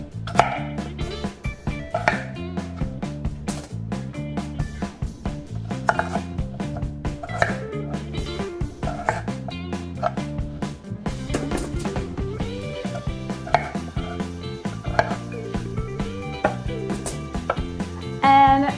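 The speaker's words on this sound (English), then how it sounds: "cut them in half and then cut those halves into quarters or eighths" Knife chopping potatoes into quarters on a cutting board, with a run of crisp, evenly spaced thunks close up, over soft background music and no talking.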